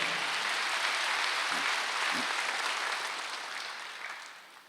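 Broad, steady applause from a congregation at a Wednesday church service, a dense wash of many hands clapping that fades gradually toward the end, with no speech over it.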